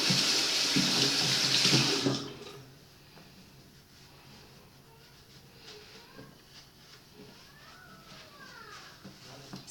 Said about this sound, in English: I'm gonna go rinse my hands off real quick